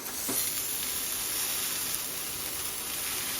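Puliccha keerai (sorrel) greens sautéed in oil with garlic, green chilli and rock salt give a steady, even sizzle and hiss throughout, close by and alone, with no voices.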